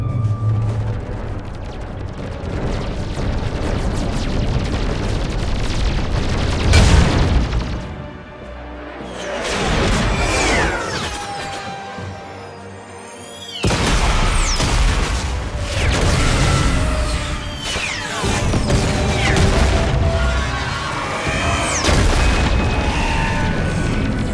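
Loud weapons fire and heavy explosions in the sci-fi video game Mass Effect 3, dense booming blasts and crashes throughout, with a brief lull midway before the barrage resumes.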